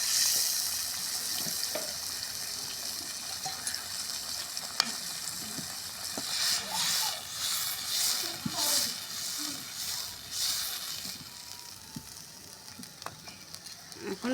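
Water poured into a hot pan of braised fish, set off by a loud surge of sizzling and hissing with splashing and stirring, fading back to a steady fry toward the end.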